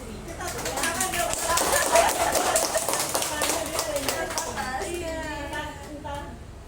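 Scattered audience hand claps rise briefly under ongoing talk at a community gathering, a short burst of uneven taps that fades as a voice carries on.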